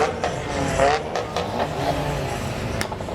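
Steady roar of car engines revving and racing in Need for Speed: Most Wanted at a car meet, continuous and fairly loud, with faint voices mixed in.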